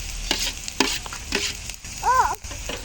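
Onions and tomato sizzle in a frying pan for a goat liver fry, with a spoon stirring and scraping in short, quick strokes against a steady soft crackle, close up.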